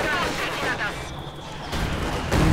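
A Panzerfaust fires in Company of Heroes 2 as a sharp launch blast amid continuous battlefield gunfire and artillery rumble, with a louder burst near the end.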